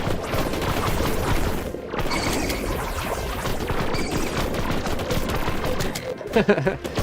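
A powerful gun in the video game Nova Lands fires in rapid, continuous bursts, a dense crackling volley that fills the whole stretch with brief dips.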